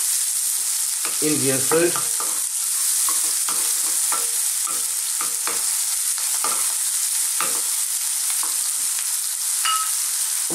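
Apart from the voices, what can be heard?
garlic and ginger frying and stirred in pan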